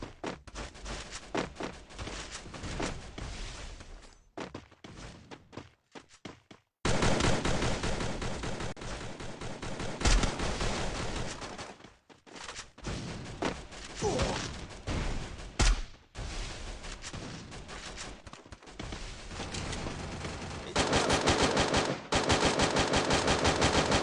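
Automatic gunfire in the mobile video game Free Fire rattles in long dense bursts with brief gaps, loud and continuous, broken by short pauses between volleys.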